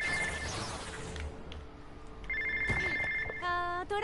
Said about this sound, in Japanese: 電話電話ですよね